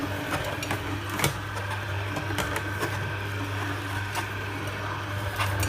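An electric juicer hums steadily while pressing lettuce, with faint intermittent clicks and knocks over the constant motor drone and no speech.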